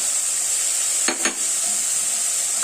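Ginger and garlic frying in a pan, a steady even sizzle broken by two brief stirring scrapes of a utensil, close and alone with no voices.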